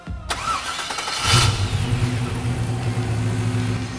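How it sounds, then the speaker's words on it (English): A car engine fitted with an Edelbrock Pro-Flo 4+ EFI system cranks briefly, then catches and settles into a steady, loud, close idle with a deep rumble. "And fire it up, Preston."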